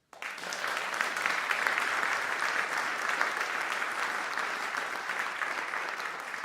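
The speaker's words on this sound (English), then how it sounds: "a round of applause for Alvin Page on tenor sax" Sustained applause from a jazz audience for tenor saxophonist Alvin Page of the Rodney Whitaker Quartet, a dense, steady clapping that starts abruptly and holds evenly for several seconds with no voices.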